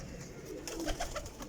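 Champion parwazi high-flying pigeons cooing softly in a short, faint burst of low murmuring calls over background hiss.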